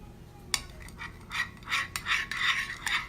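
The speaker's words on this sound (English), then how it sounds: "We're gonna stir this up." A spoon stirring an edible glitter mixture in a bowl after microwaving, soft rhythmic scraping and rubbing strokes repeated several times, close and fairly quiet.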